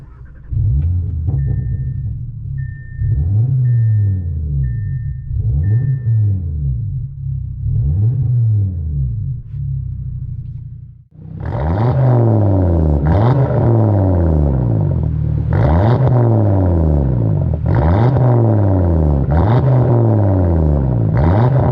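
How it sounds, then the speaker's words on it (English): A 2019 Audi RS3 engine cranks over several times, then catches and roars into a loud, rumbling idle with rhythmic pulses, close and steady. "Good shot of what the car sounds like when you first start it up"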